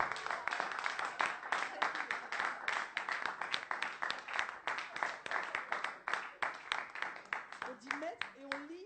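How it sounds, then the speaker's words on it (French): A church congregation claps rhythmically in unison to acclaim the Lord, fast steady beats filling the room from start to finish, with a voice briefly audible near the end. "On acclame le Seigneur."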